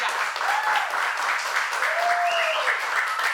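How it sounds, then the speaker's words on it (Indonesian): Studio audience applauding during a television comedy show as the finalists of a singing talent audition are announced, a steady, dense wash of clapping with a few whistles rising over it, loud and continuous throughout. "Jangan ragu-ragu kalau mau tepuk tangan."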